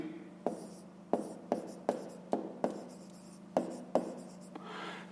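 A pen writes on paper during a fifth-grade maths exercise, close and quiet, with sharp taps and short scratchy strokes in an uneven rhythm.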